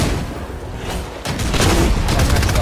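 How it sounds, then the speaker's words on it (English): Gunfire in the Fortnite video game, a sudden loud sniper rifle blast breaking in midway followed by sustained booming shots and fusillade, with no talking. "Oh, Johnny, you fucked my sniper shot."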